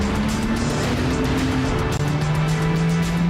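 A Bentley Continental with 650 Nm of torque accelerates hard, its engine a loud, continuous roar whose tone climbs steadily with no voices over it.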